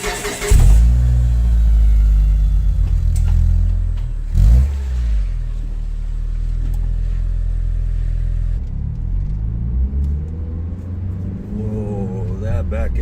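A car with a custom rear sway bar being driven on a test drive, its engine rumbling and revving loudly, close up, under intermittent voices.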